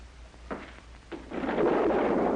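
Thunder from an approaching storm rumbles in two rolls that swell into a long, loud, spreading roar, with no talking over it.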